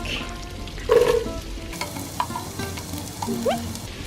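Minced garlic hisses and crackles in melted butter in a pan, a steady soft sizzle with occasional stirring scrapes, close and moderately loud, with no voices.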